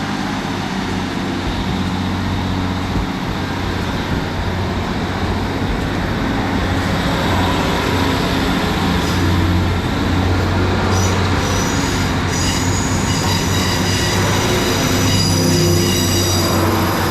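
Class 150 trains pull out of Penzance station bound for Plymouth, wheels squealing steadily on the rails over a continuous rumbling roar throughout, with no talk.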